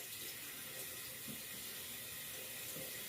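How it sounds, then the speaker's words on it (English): Tap water runs steadily into a sink as hands are rinsed under the stream, a continuous close hiss with no talking. "Now, let's rinse our hands."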